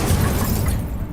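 A fiery Incendio spell cast in Hogwarts Legacy, a dense roaring whoosh of flame with crackling bursts, loud and continuous for about a second before easing slightly.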